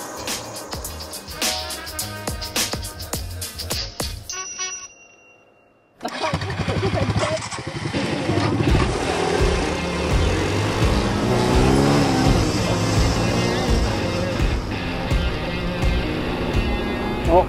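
Suzuki DR-Z250 and DR200SE dual-sport motorcycles start up and settle into a steady rumbling idle after a brief quiet gap, loud and near, with faint voices at moments.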